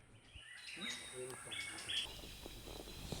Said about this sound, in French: Là on entend le cri du calao longiband.